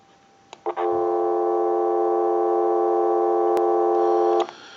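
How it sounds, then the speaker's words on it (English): A steady electronic tone hums from a repaired Western Electric 202 rotary dial telephone converted to play through an amplifier, starting abruptly after a couple of clicks, holding flat and loud for about four seconds, then cutting off. "go ahead and give you some dial tone."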